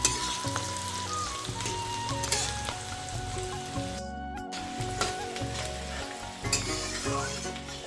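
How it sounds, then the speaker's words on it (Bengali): Sliced onion and garlic cloves frying in oil in a pan with bay leaves, a loud continuous sizzle broken by rhythmic stirring scrapes and one brief pause, close and without talk. "পেঁয়াজটা ভাজা হয়ে গেছে, এখন এর মধ্যে ঢেলে দিব মটনটা।"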